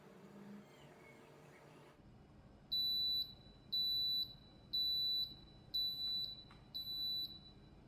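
A Baby Brezza Safe + Smart bottle warmer finishes its timer with five evenly spaced, piercing electronic beeps. Each beep is short, and a quiet background hum runs underneath.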